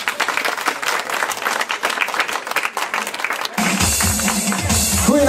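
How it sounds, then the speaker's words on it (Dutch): Audience applause for a performer at an afternoon show in Alken, dense clapping from a crowd that swells louder in the last seconds as music starts underneath. "eerste een daverend applaus."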